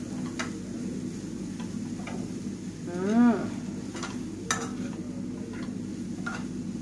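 A spoon stirs onions in a pan for an onion-and-meat tagine, giving sparse light taps and clicks over a low hum, with one brief squeak in the middle, faint and alone.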